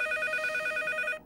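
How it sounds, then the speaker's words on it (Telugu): An old-style telephone bell rings in rapid continuous trills, loud and close, then stops abruptly just before the end, with no talk. "ఇదేంటి ఫోన్ రింగ్ సౌండ్ వస్తుంది?"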